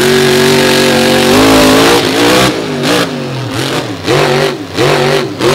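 A big white Ram monster truck from Florida revs its engine hard at a beach show, the loud roar climbing and dipping in repeated surges with no pauses.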